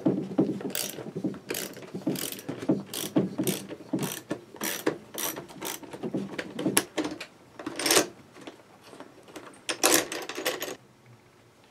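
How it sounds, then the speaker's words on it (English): A half-inch ratchet loosens the stock seat post on a Jetson electric bike, with rapid, sharp clicking strokes repeating in quick bursts close to the mic. "So we can remove this stock post with a half-inch ratchet."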